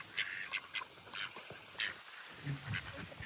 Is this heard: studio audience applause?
no